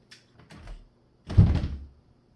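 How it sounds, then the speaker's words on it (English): A sticking door rattles briefly and then lands a heavier dull dunk as it is forced, a couple of close muffled knocks in an otherwise quiet room. "This door gets a little stuck and makes this dunk noise"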